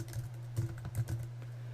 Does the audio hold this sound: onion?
no